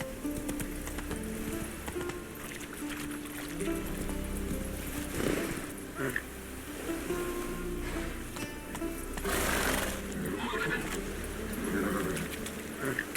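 Roach the horse runs in The Witcher 3, with steady rhythmic hoofbeats over outdoor ambience and a low ongoing rumble, close and moderately loud.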